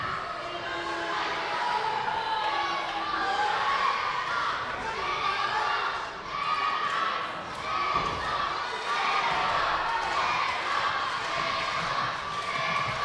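Children in the crowd at a wrestling match cheer and shout continuously, a dense, lively mix of young voices with occasional thuds from the ring, steady and fairly close throughout.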